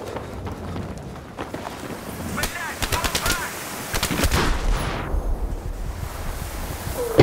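Video game gunfire, with scattered shots and short rattling bursts from mid-distance mixed into a busy, noisy battle ambience, fairly loud but partly masked.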